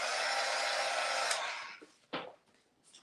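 A hair dryer blows steadily on a Gelli plate print for about a second and a half, then cuts off, leaving faint handling noises and a brief rustle.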